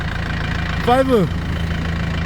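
A 2012 Doosan D20S two-ton forklift with a 16-valve engine idles nearby with a steady, low, even hum. A brief voice rises over it midway.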